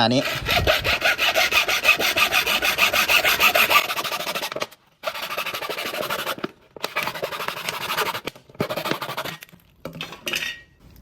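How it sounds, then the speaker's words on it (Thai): A hand saw for PVC pipe rasps back and forth through a plastic bottle in fast, steady strokes, loud and close, pausing briefly between bursts of cutting. "นี่ให้เราเอาเลื่อยนะครับเลื่อย"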